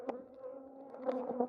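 Honey bees hum softly on a hive frame packed with honey during a queen-rearing session, a quiet, steady buzz with a few brief, closer swells as individual bees pass by.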